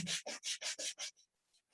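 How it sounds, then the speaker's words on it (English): Sandpaper rubbed across a flat wood surface in six rapid, even back-and-forth strokes, loud and close, then the scraping stops and quiet follows; the sanding runs with the grain using 220-grit paper. "you've reached every part of the surface with the sandpaper"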